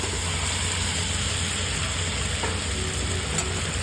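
Teasel gourd sautés in spice paste for a Bengali fish curry, producing a dense, continuous sizzle with a faint clink or two of a utensil against the pan.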